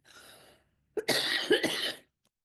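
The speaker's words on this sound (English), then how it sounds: "I can't stop coughing." A person coughs, first with a softer short burst, then after a brief pause with a louder, harsher fit of several rough coughs close by.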